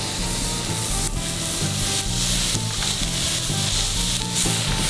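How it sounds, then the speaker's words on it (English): Beef fillets sear in a hot pan with a loud, steady hissing sizzle, close up, with faint scraping and shifting underneath and no voice. "getting ready to pop on our fillets"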